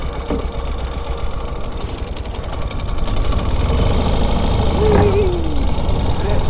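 Sidecar motorcycle engine running on a ride, a steady mid-pitched drone that rises slightly in revs, heard close with road and wind noise throughout.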